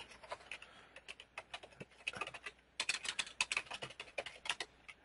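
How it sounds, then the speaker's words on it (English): Someone types a password on a computer keyboard, quick irregular bursts of light clicking keystrokes with short pauses, close and quiet, with no talking. "Give John a username and a password"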